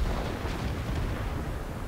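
An artillery shell hits a tank in World of Tanks, a heavy, rumbling blast that fills the whole moment, loud and close, with a deep roar under its noisy crack.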